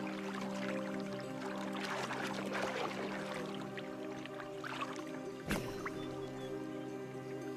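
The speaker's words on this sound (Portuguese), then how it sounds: "Os machos competem pelo domínio golpeando a superfície da água." Male Persian crocodiles slap the water surface in a dominance contest, giving continuous wet splashing and dripping with one sharp, louder slap near the end.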